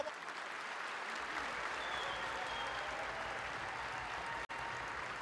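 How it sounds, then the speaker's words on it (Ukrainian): Distant, steady applause from spectators in an indoor sports palace ahead of a Ukrainian cup final match, a continuous low wash of clapping and crowd noise with a brief dropout near the end. "Оплески на адресу нам"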